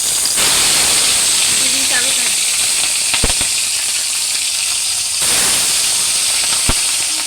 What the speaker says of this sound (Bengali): তিনটে ভাজা হচ্ছে এই দেখো আমার মাছ ভাজা কমপ্লিট হয়ে গেছে